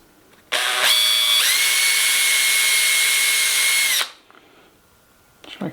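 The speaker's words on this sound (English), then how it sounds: "drill a pilot hole from either side" A power drill drilling a pilot hole whirs loudly for about three and a half seconds, its pitch rising briefly as it speeds up, then winds down into quiet.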